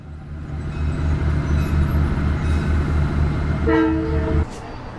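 A stainless steel rail diesel car rumbles and throbs close by with a steady chugging pulse as it arrives at a station, and a horn-like tone rises briefly before the engine noise cuts off.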